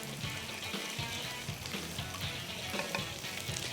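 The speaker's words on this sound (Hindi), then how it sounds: "इसको बस अच्छे लो फ्लेम पे ही इसको करें मिक्स।" A thick mixture is stirred in a pan over a low flame while seasonings wait nearby; close, steady sizzling runs throughout with soft scraping of the spoon, continuous and fairly loud, with no voices.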